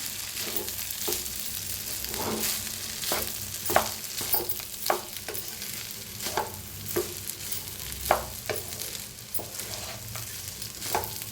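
Tempered rice with finely chopped coriander on top is stirred and mixed in a pan, giving soft scraping and a steady run of spoon clicks over a low background.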